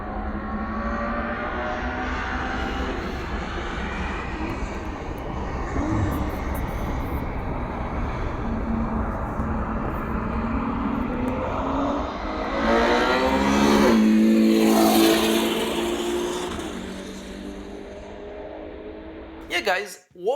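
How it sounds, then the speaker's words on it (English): The V12 engine of a Ferrari Purosangue SUV drones and then revs hard to a loud peak before settling, with a short burst near the end. "what you hear is a V12 powered Ferrari Purosangue"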